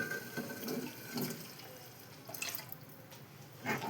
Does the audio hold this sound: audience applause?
no